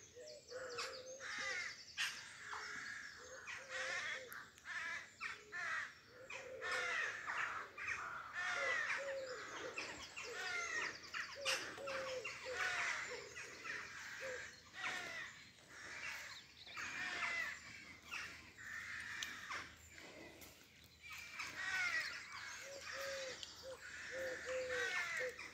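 A rookery at 5am in Pulford, Cheshire, England, near a horse chestnut tree. Many rooks caw and chatter continuously, overlapping harsh calls at moderate distance, with no talking.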